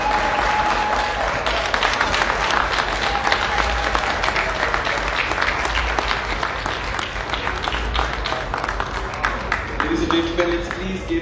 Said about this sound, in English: Let's please give the First Lady of the Republic of Sierra Leone another resounding round of applause.